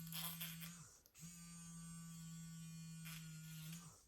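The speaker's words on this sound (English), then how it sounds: "you can just hear it vibrating against the jewelry" A close electric buzzing from a small vibrating device, running steadily, cutting out briefly, then resuming with a faint metallic rattle.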